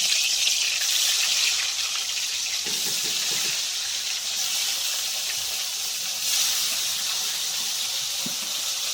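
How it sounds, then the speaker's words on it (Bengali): Fish sizzling as it fries in hot mustard oil in a wok, a steady close hiss of spitting oil running continuously with small crackles and no voices. "এবার আমি মাছগুলো ভেজে নেব।"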